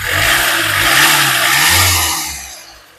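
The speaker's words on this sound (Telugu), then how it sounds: "ఇంజన్ యొక్క నాయిస్ అనేది ఒకసారి యాక్సిలరేటింగ్" A 2017 Hyundai Creta E Plus engine revs under acceleration: a loud, close roar that climbs and swells for about two seconds, then tapers and fades away.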